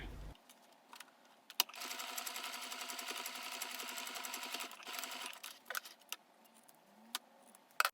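A sewing machine stitches a cotton coin purse made from loincloth fabric, running in a steady rapid burst of needle ticks for a few seconds, then stopping and restarting in short bursts with quiet handling in between.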